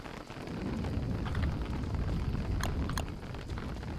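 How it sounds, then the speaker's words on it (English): Steady rain hisses in the game Don't Starve as a dense, even wash of noise, with a couple of brief sharp ticks partway through and no talking over it. "And now it's raining."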